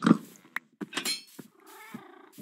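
Cat sounds in a video game: a sharp opening cry followed by brief meow-like calls and a drawn-out purring tone, mixed with soft clicks, close and fairly quiet.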